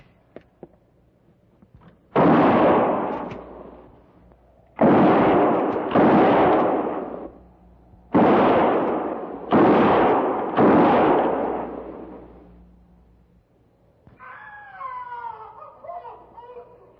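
Rifle rounds fired between trees: six loud, booming shots in irregular pairs, each with a long, rolling echo that fades before the next, then a faint wavering tone at the end.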